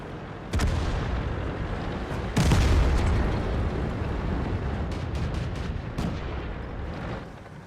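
Tank cannon shots in a tank combat video game: two heavy booming blasts a couple of seconds apart, each followed by a long rumbling tail, with lighter clanks and a softer report near the end.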